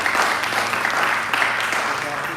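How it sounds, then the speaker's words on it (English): Crowd applause at a cash transfer launch celebration, a thick, continuous burst of clapping that stays loud and even for the whole moment. "Give her a hand of applause"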